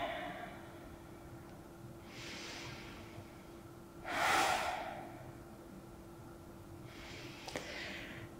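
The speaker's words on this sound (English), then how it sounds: "Take a couple of breaths." Three slow, deep breaths during a guided relaxation session, each a soft airy exhale spaced a couple of seconds apart, the middle one strongest, heard close over a quiet steady hum.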